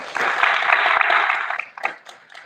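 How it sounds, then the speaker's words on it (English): A crowd applauding steadily, dense clapping that holds for a couple of seconds and then thins out into a few scattered claps. "make sure that we give a big round of applause"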